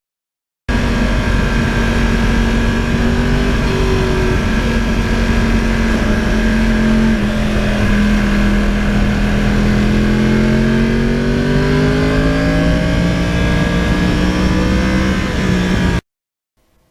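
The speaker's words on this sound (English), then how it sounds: "I think you'll really enjoy the power output of the R1 and the way it puts the power out, not like a two-stroke" A 2020 Yamaha R1 motorcycle on the move near a lake gives a loud, continuous engine drone. The pitch climbs and dips slowly over the whole ride, under a constant rush of wind, with no voices.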